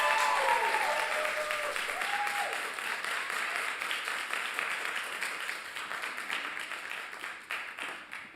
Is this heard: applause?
yes